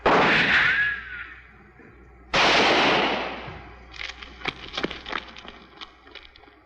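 Gunfire in a TV western shootout: two loud, sharp shots a couple of seconds apart, each trailing off in echo, followed by a spattering of smaller cracks and ricochets.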